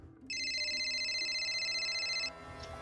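A phone rings with an electronic ringtone for a call from an unknown number, one continuous warbling burst lasting about two seconds over a quiet background hum, then stopping.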